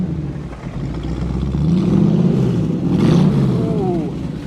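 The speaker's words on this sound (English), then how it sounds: "Dave, rev the engine, sir." A 1933 Ford three-window hot rod coupe, built by Outlaw Performance, revs its engine in a deep rumbling swell that rises twice and settles, close and loud with faint voices in the background.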